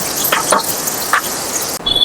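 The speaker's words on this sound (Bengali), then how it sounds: "কড়াইটায় তেল খুব ভালো করে গরম করা হয়ে গেছে এবার আমি মাছটা দিচ্ছি" Pomfret fish fry in hot oil in a wok, giving a steady, close sizzling hiss with a few louder bursts and a brief cut near the end; no talking.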